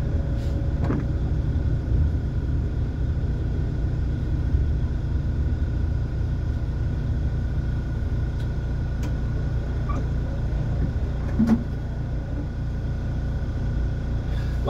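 A bus in KOE test service in Helsinki drives past a stop without stopping, a steady low rumble of engine and road noise with a few faint ticks and clicks inside the cabin.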